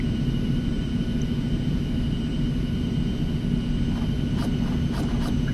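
Simulated Eclipse 550 jet idling before takeoff in X-Plane 11, a steady loud engine rumble and hum with a faint high whine, continuous and close, with a few brief clicks near the end.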